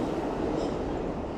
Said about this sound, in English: You can hear the 6th train passing above ground.